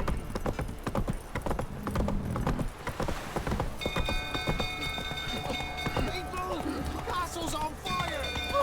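Galloping hooves of Roach, a horse in The Witcher 3, clatter in a fast steady rhythm under dense game music, with a castle on fire nearby and a voice urging the horse on.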